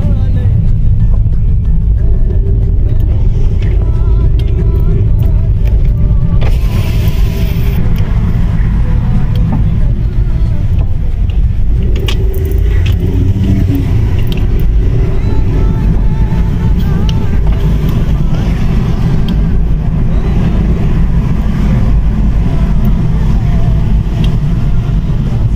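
A car drives along a rainy street in Riffa, Bahrain, with a steady engine and road rumble running loud and continuous throughout, and a person talks quietly over it.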